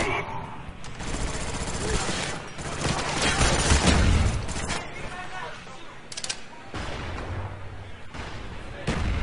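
Grenade blasts and rapid gunfire from a team shooter video game played in a tournament final crackle in dense bursts, with heavy booming explosions in the middle, heard up close with talking mixed in.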